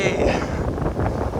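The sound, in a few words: strong wind blowing into microphone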